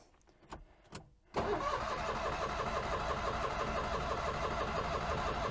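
An old car's engine, choke pulled out, clicks briefly, then cranks and catches, settling into a loud, steady, rough-edged idle close by.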